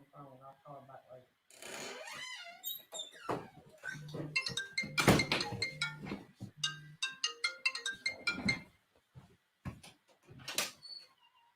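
A phone ringtone for an incoming call from Dad chimes in a repeating melodic pattern, recurring in bursts, while a person talks over and between the rings.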